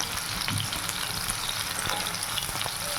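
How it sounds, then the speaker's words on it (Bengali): Bitter gourd pieces fry in a pan with a close, steady oily sizzle and light crackle, moderately loud and unbroken for a few seconds, with no talking over it. "এখানে উচ্ছেগুলোকে ভেজে নেব"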